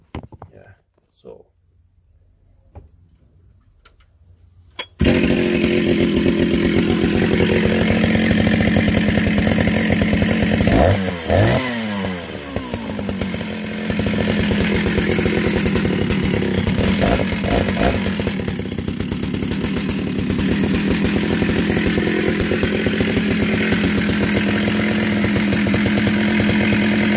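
A restored vintage Jonsered 70e chainsaw in very good condition starts after a few seconds of near silence with faint sounds, then runs loud and steady at close range for over twenty seconds, its engine note wavering slightly.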